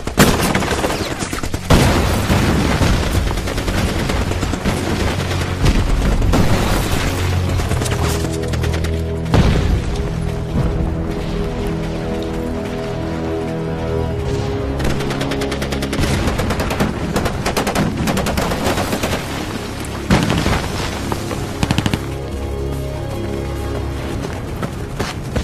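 Heavy machine-gun fire and gunshots from a war film battle scene, with dense, loud bursts and booms rattling almost continuously, a few brief lulls between volleys.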